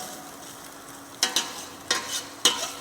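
Tomato brown sauce being stirred in a pan, with a few distinct scraping strokes of the spoon against the pan over a soft background hiss.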